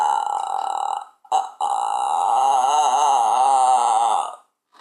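A long, loud, drawn-out burp rumbles close to the listener, broken by a brief pause and a short gulp before a sustained second belch that fades near the end.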